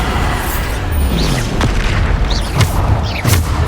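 Spell blasts from Bombarda cast in the Hogwarts Legacy video game, a few heavy booming bursts layered over a dense, constant rumble of combat noise, loud and close.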